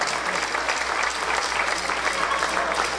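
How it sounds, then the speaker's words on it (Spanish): Audience applause for beauty pageant contestants at a Mexican contest event, a dense, steady clapping crowd sustained evenly throughout without any talk. "¡Fuerte el aplauso otra vez para ellas, por favor!"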